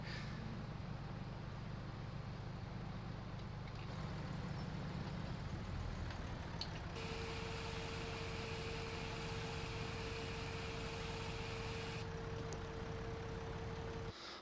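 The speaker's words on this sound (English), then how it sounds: "I'm not holding out on the throttle on this thing either. I mean, this is pedal to the floor with this tractor." A tractor engine runs at full throttle in the video game Farming Simulator 17, a steady loud drone that holds for the whole stretch, with a thin high whine joining midway.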